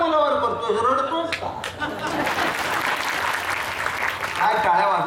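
A crowd at a kirtan bursts into sustained applause with some laughter, while someone speaks over the start and the end.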